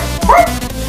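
A person imitates a dog's bark with one short, loud woof.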